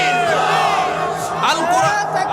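Large gathering of listeners at an Islamic religious sermon roaring back a loud, sustained unison shout in answer to a takbir call, dense and close, filling the whole moment.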